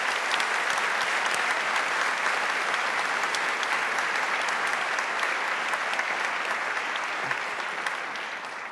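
Sustained audience applause following a speech by President Bill Clinton at a speaker series event, a dense even wash of clapping that holds steady and tapers slightly at the end.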